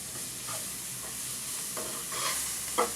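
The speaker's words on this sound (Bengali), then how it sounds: "এখন আবার এগুলোকে ভালোভাবে নেড়ে চেড়ে নিতে হবে" A pan of egg masala sizzles softly while garlic paste is stirred through it, the spoon scraping a few times and a brief louder scrape near the end, all fairly quiet with no voices.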